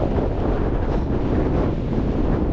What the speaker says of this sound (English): with that cloud and stuff rolling in and that wind picking up, as forecast